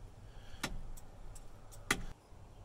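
A classic car's turn signal flasher relay gives two distinct sharp clicks with faint ticks between them, close and fairly quiet over a low background hum.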